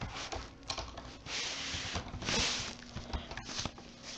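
Computer keyboard typing, light rapid key clicks in short irregular bursts, close and fairly quiet, with no talk.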